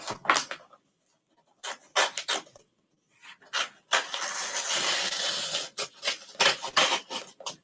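Heat transfer vinyl masking sheet being trimmed by hand for a Memorial Day project, giving intermittent close rubbing and rasping bursts with one longer sustained scrape, separated by short pauses.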